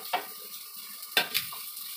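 Finely chopped onions sit in hot oil in a pan for egg fried rice, giving a quiet, faint sizzle broken by a few sharp utensil clinks against the pan.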